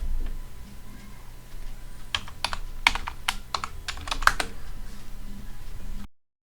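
Keystrokes on a computer keyboard come in a quick cluster of sharp clicks over a low steady hum, close and distinct, then stop before the sound cuts to silence.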